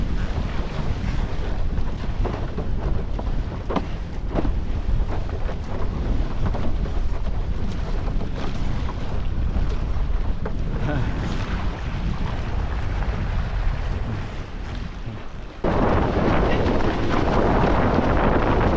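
Strong sea wind buffets the microphone while windsurfing at Primbee on a big board with a small sail in about 22-knot gusts, a loud continuous roar that dips briefly near the end before surging back.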